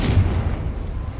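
Fire spell blast in Hogwarts Legacy, a deep booming burst that rolls out loud and low, then fades into a rumbling tail over about a second.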